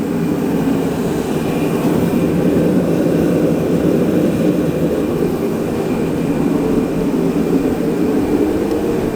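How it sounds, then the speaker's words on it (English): A space heater runs steadily beside a Ka24de valve cover freshly cleaned with brake cleaner, giving a constant, fairly loud broadband whoosh and hum with no breaks. "I've got the heater going just to warm up the valve cover a little bit"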